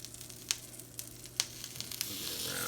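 A Reuben sandwich sizzling on a griddle as it is flipped, a quiet steady fry with a few sharp spatula taps, the sizzle swelling slightly louder toward the end.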